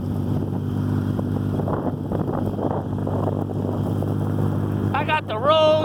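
A motorcycle rides through deep snow on empty roads during a freak snowstorm, its engine a steady close drone under constant wind buffeting, with a brief whistling tone near the end.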